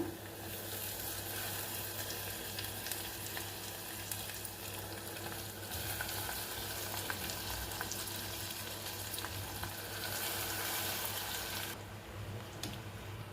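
Soaked flattened rice hits a hot tempering pan, giving a loud, continuous sizzle with stirring scrapes throughout and no voices.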